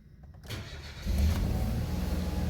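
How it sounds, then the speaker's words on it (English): A Nissan car with a CVT transmission fault cranks briefly and its engine catches, settling into a steady, close idle rumble with no talk. "So I'm going to start the engine."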